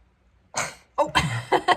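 A single sharp sneeze bursts out, followed by brief close voice sounds.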